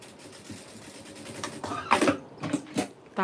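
A sewing machine stitches along a folded ribbon edge, a short burst of rapid mechanical clatter that builds after a quiet start, close and alone.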